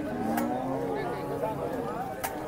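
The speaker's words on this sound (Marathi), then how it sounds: "बघू शकताय पहिल्या वेताची गाय." A cow moos repeatedly at a busy cattle market, the long calls rising and falling near the listener over a steady crowd murmur, with faint voices and occasional sharp knocks in the background.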